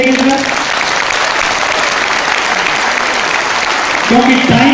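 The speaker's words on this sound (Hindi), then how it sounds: "तो इनके लिए तालियां जोरदार होनी चाहिए सर" Meeting audience applauding support staff, a loud, dense burst of many people clapping that holds steady, with a voice briefly heard at the start and end.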